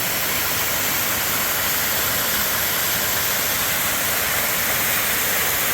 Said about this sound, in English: Quite the waterfall. It's just rushing down there.